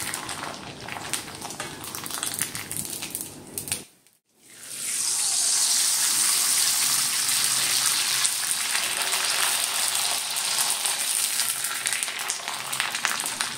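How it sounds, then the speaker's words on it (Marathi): Hot oil hisses and crackles steadily as sago papads deep-fry, loud and close, after a brief quiet gap near the start. "आता बघा इथे मी तुम्हाला काही पापड तळून दाखवते"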